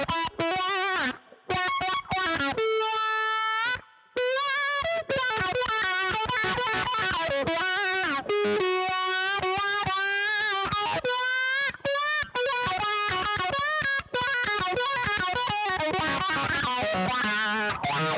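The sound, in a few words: electric guitar solo through Boss ME-90 wah pedal effect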